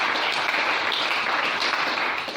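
A church congregation applauds and cheers the Lord together, a dense, steady wash of clapping that stays loud and even from start to finish.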